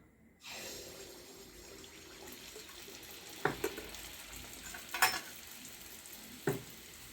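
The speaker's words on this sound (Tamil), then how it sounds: "நம்ம இப்போ ஒவ்வொரு பணியாரமாக ஊற்றி எடுப்போம்" Paniyaram batter hits hot oil with a sudden loud hiss that settles into a steady sizzle, broken by a few sharp clicks and taps from the pan and utensil, with no talking.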